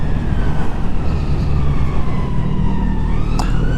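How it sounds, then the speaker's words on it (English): An ambulance siren wails from behind a rider on a 2019 Kawasaki Z900RS, its sweeping tone rising and falling over loud motorcycle engine and wind noise. "just got an ambulance coming up behind"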